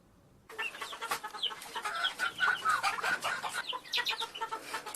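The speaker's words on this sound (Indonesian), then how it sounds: "Ayam kalkun merupakan sebutan untuk burung berukuran besar dari ordo Galliformes genus Meleagris yang berasal dari negara Meksiko dan Amerika Utara." A dense flock of turkeys on a turkey farm clucks and chatters continuously, many birds calling at once, fairly loud and close, with no voices.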